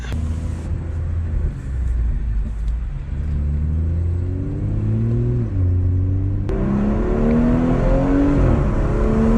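A car engine in sport mode accelerates hard during spirited driving, loud and close throughout, with rising, shifting engine tones that climb through gears and a sharp change partway as revs jump, no talking over it.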